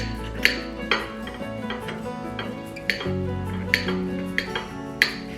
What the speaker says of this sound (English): Now first, I like to cut the butter in smaller pieces.